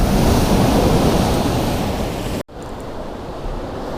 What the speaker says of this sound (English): The waves have actually gotten smaller, and the tide's gone down.